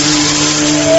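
Car engine humming as the vehicle rolls up to stop for a hitchhiker, a steady close motor drone with a tone that shifts slightly near the end, no voices.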